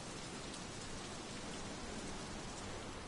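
Rain falling in the video game Lego DC Super Villains, a steady dense hiss of drops at even loudness throughout, with no talk over it.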